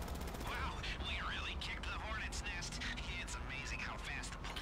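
Rapid video-game gunfire aimed at police cars in Grand Theft Auto V, dense bursts of shots crackling continuously under a talking voice, with a helicopter and sirens in the mix.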